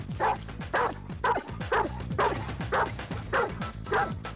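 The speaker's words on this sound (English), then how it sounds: "He'll bark and bark for that ball." A dog barks eagerly and repeatedly for a tennis ball, about eight close, loud barks in a quick regular rhythm with brief whimpering yips between them.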